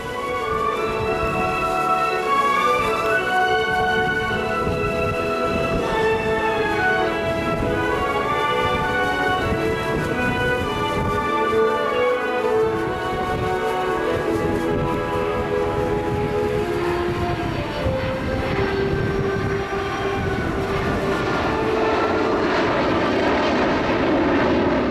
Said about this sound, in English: He's going to configure the aircraft for a slow flyby.